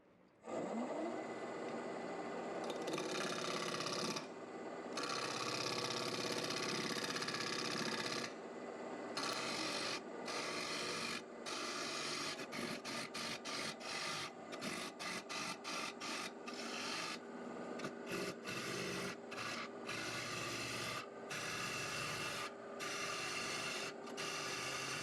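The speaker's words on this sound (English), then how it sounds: "I'll start by turning this round at 1000 RPM with, of course, my 3/8 inch bowl gouge." A wood lathe spins a blank at 1000 RPM while a 3/8 inch bowl gouge turns it round, giving a loud, continuous broadband cutting roar broken by rapid rhythmic interruptions as the tool bites and lifts.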